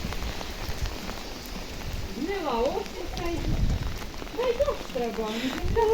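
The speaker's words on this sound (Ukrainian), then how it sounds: "сьогодні на тобі опять л'є дощ." Steady rain pattering on a surface, with voices talking over it throughout.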